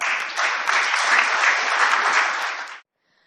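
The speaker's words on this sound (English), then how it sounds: "let's give Dr. Mashelkar a huge round of applause" Applause after a speech at a corporate leadership awards event, a dense, loud burst of clapping from the audience that holds for under three seconds and then stops abruptly.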